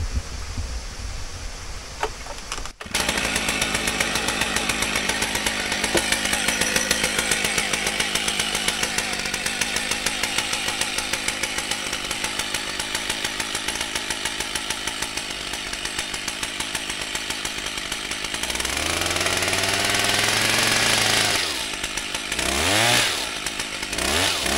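A chainsaw cuts wood at a rural dam-side house build, running loud and close for most of the stretch, revving in steady pulses, then dipping and rising in pitch near the end as the cut finishes.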